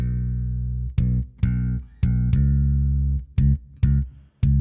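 A deep bass line, EQ-boosted at 100 Hz, plays loud, thick notes with sharp plucked attacks, some held and some cut short, dominating the low end.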